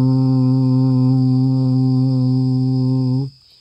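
Steady nasal hum from a single person, the voice resonating back in the throat with the palate shaped, holding one sustained rich tone for about three seconds before cutting off abruptly.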